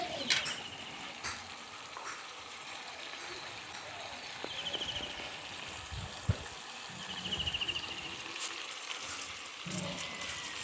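Rice being stirred slowly into fried spices in a pot for homemade pulao: steady soft sizzling with intermittent scraping and stirring strokes, close and fairly quiet.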